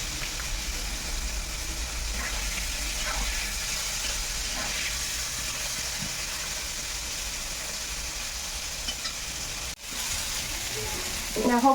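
Onions frying in oil in a home kitchen pan give a steady, continuous sizzle and hiss for the full stretch, fairly quiet and even, with a brief dropout near the end.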